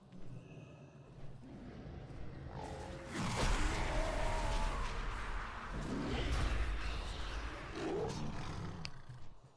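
Tiger in the World of Warcraft video game lets out a deep roar, then further rumbling growls swell and fade over several seconds, moderately loud against soft in-game ambience.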